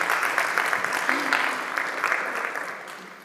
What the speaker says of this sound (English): So maybe a round of applause.